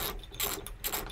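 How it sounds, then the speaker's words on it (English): Socket ratchet fitted with a T50 Torx bit backing out a seat belt anchor bolt, giving a quick run of close, faint clicking bursts with short gaps between them. "take your T50 on a ratchet and unscrew that bolt"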